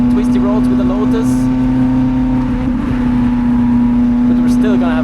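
A Lotus Elise sports car drives twisty roads, its engine holding a steady, loud drone from inside the cabin, with a voice talking over it.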